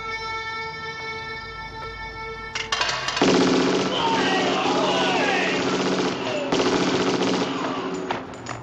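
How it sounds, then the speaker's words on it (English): Gunfire from a shootout scene in the John Woo action film Hard Boiled bursts in after a quiet tonal intro, loud rapid automatic volleys and single shots rattling over a music score. "interrupt the dialogue with another gun shootout sequence"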